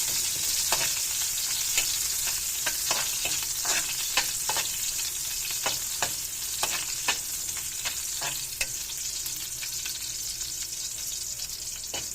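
Longganisa sausage frying and being stirred in a pan for pancit, a continuous close sizzle punctuated by frequent sharp utensil scrapes and taps in an uneven rhythm.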